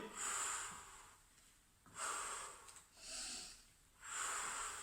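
Heavy, rhythmic breaths, loud and close, alternate in a steady cycle of long airy exhales and inhales, with no talking, during a circuit-training workout.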